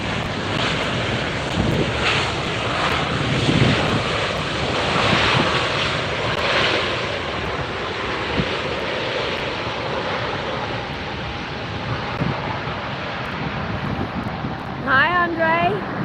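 A Delta airliner in special livery passes close by at LAX, its broad, steady jet roar mixed with wind buffeting on the microphone for the whole stretch, with a brief chirp near the end.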